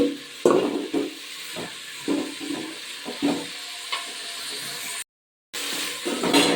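Masala frying in oil for bitter gourd gojju, a steady sizzle broken by repeated scraping stirs, close and fairly loud with no voices.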